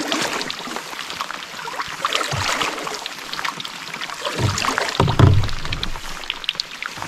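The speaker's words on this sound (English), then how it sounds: "And now it's raining." Rain beginning to patter onto a calm lake beside a boat about to launch, a light, steady wash of drops with scattered small splashes and a few low knocks nearby.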